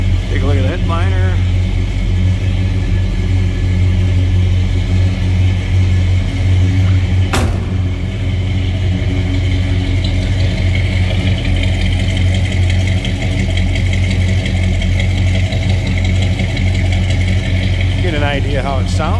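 The 318 V8 of a 1967 Dodge Coronet 440 hardtop runs steadily with a loud, continuous low rumble, heard up close from start to finish with one sharp click partway through.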